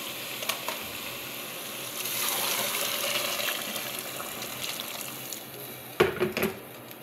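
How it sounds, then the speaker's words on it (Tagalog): Water pours into a pot of rice for soaking, a soft steady gush that builds and then fades, ending with a couple of sharp knocks nearby and no talking. "Lagyan na natin ng tubig."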